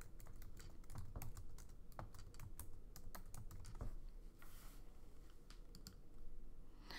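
Fingers typing a username and password on a computer keyboard, a quick irregular run of close, crisp key clicks over several seconds with no talk.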